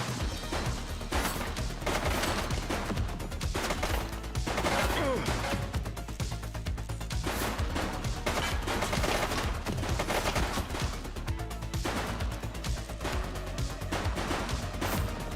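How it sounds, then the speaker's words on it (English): A suspect fires at police in a shooter video game, with dense, loud volleys of gunfire mixed with other combat noise and brief shouted voices. "He's shooting!"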